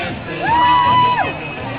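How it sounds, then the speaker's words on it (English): Spectators at a paddle race let out a whoop, a single rising-and-falling shout that holds steady for about a second over distant crowd noise, heard from some way off. "Got some whooping over there. That was nice whooping."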